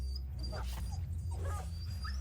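A dog whimpers as it is killed in the video game Battle Brothers, a few short yelps and whines in quick succession over a steady low game rumble.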